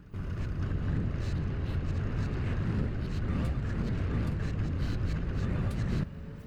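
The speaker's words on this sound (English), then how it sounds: "I better move the bottled milk pellets out of the way. Which is the perfect job for the little skid steer" A small skid steer in Farming Simulator 25 rumbles steadily while moving bottled milk pellets, a constant engine drone that drops away abruptly near the end.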